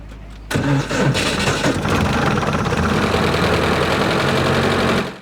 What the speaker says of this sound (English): Do you want to hear the engine?